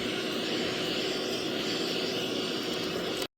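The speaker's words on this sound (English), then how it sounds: "the suction part is so small, so it does make it less effective in sucking up the furs on the brush" A handheld pet-grooming vacuum with a small suction nozzle runs steadily, producing a loud, constant motor whir and airflow hiss that cuts off abruptly at the end.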